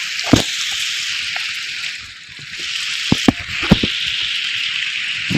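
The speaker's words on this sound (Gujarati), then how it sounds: "એકદમ ફૂલ વરસાદ આવી રહ્યો છે." Heavy rain falls over farmland just after sowing, a steady, loud hiss of pouring water with a few sharp drips and knocks close by.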